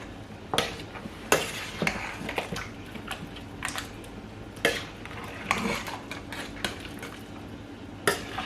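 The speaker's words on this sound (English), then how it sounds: "I've added the beef, so I'm going to stir it a bit." Spoon stirring beef in a cooking pot during large-batch meal prep, with irregular scrapes and clinks against the metal over a low kitchen hum, close and moderately loud, no speech.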